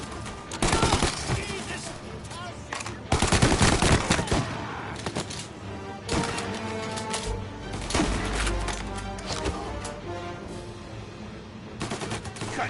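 Gunfire in the video game Mafia Definitive Edition crackles in repeated bursts and rapid volleys over several seconds, loud and close, with a voice shouting briefly amid the shots.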